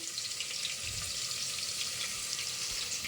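Onions frying in a pan for a chicken curry, a steady loud sizzle with a brief low rumble of stirring near the start, continuous and close with no voice.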